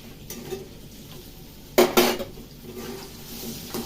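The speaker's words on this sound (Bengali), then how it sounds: "আলুগুলো ভালো করে ভেজে নিলাম লাল লাল করে ভাজছে আলুগুলো" Potatoes frying in a pan are stirred with a metal utensil, producing a few sharp clanks and scrapes near the middle over a low, faint sizzle.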